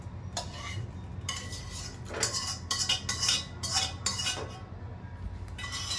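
Chopped onions being stirred into millet adai batter with a spoon in a metal bowl, close clinking and scraping strokes in uneven bursts over a low steady background hum, without talk.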